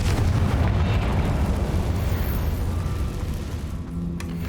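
Loud fiery blast from the Confringo spell in Hogwarts Legacy, a sustained rumbling explosion that fills the whole moment and tapers slightly near the end, with no talking over it.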